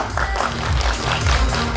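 Audience applause at a Korean film production press event as the director and cast walk onto the stage, a loud continuous wash of clapping from a crowd with a low rumble beneath.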